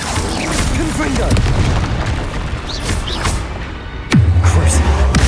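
A Confringo fire-blast spell explodes in the video game Hogwarts Legacy: a dense, rumbling crackle runs throughout, then a sudden heavy boom hits near the end and leaves a loud, low roar.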